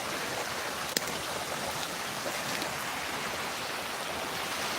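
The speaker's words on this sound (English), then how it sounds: "And now we're actually in a rainstorm right now" Rain from a rainstorm hisses steadily and densely close by while someone walks outdoors toward a waterfall. There are a few faint drop taps and no speech.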